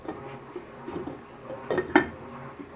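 A lid is set onto a saucepan holding pork ribs with garlic paste, giving a couple of light metallic clinks and a firmer clatter near the end, close and fairly soft.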